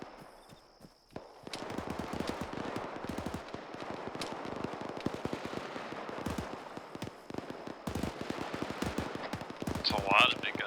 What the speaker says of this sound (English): Yeah, there's something large caliber over there. It's got one fucking hell of a report on it.